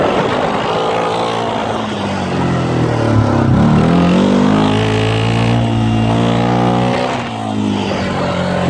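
A small quad bike engine screams at high revs, loud and close, its pitch wavering and climbing as it is over-revved hard without letting up, giving off blue smoke.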